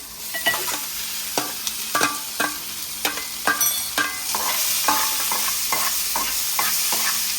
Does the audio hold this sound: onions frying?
yes